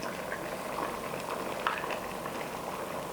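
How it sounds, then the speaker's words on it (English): A pot of groundnut soup boils steadily up close, a continuous bubbling burble with small pops, loud and even throughout and heard alone without talk. "So it's boiling well."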